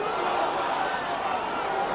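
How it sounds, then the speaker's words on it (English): A rugby crowd at a Great Britain versus New Zealand test roars behind Great Britain, a dense, continuous wash of cheering voices sustained at steady loudness throughout. "the crowd getting behind Great Britain"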